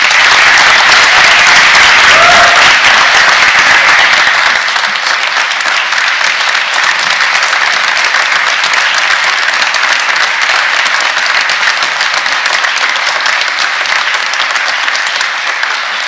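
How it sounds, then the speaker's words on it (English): Audience at an annual town meeting breaking into loud, sustained applause and clapping that fills the hall, easing slightly after a few seconds but continuing steadily to the end. "and can we please have a round of applause for Bob?"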